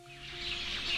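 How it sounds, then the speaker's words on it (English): Birds sing in a bamboo tree at sunset in a Hawaii garden, a dense high-pitched chorus of chirps and trills that swells steadily over one second, with no voices. "Every night around sunset, you'll hear the birds in my bamboo tree sing."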